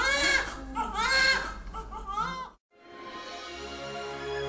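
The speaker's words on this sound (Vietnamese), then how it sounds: "Tiếng khóc của những sinh linh bé nhỏ mới chào đời là niềm hạnh phúc của những người làm cha, làm mẹ." Newborn babies crying loudly and continuously, one wailing cry followed after a brief gap by another steady, strained cry, close up.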